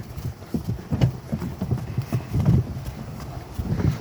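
Steady clip-clop of a draft mare's hooves at a brisk trot, close by, with soft breathing and occasional faint background noise.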